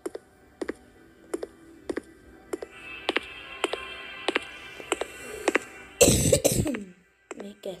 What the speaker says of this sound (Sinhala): මේ කැස්ස තමයි මට පෙන්වන්න බැරි